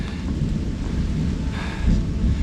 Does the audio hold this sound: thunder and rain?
yes